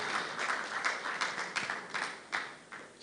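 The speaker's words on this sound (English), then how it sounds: "A warm welcome and round of applause to her as she comes on stage." An audience at an Airtel live-streamed stage event applauds as an artist walks on, heard as fairly faint, distant clapping with irregular sharper claps standing out from the crowd.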